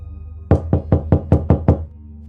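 Seven firm knocks on a door in quick, even succession, close and loud, standing out against a quiet room with no one speaking.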